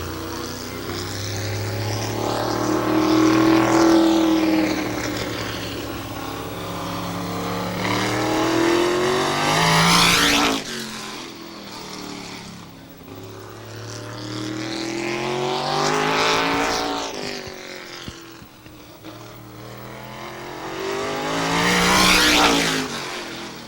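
A race car on a time trial lap in a 1988 200-lap race roars past down the front straightaway, engine pitch rising and falling in repeated loud passes with strong Doppler sweeps.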